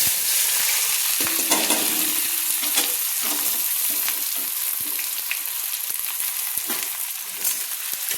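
About 300 grams of chopped, rinsed onions fry in oil in a pan, a dense continuous sizzle with scattered scrapes and taps from stirring, close and steady throughout, no voices.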